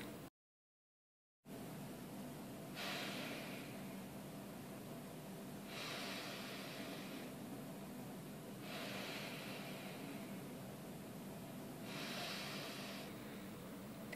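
Steady, hissing breaths through an MRI breath-hold exercise, with long exhalations swelling and fading in a slow regular rhythm after a brief silence, close and quiet with no talking.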